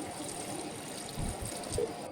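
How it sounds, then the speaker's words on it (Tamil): Water poured into a biryani pot on the stove, a soft trickling splash with a couple of louder gushes toward the end, close and fairly quiet. "ஃபைனலாக வந்து தேவையான அளவுக்கு தண்ணி ஆட் பண்ணி"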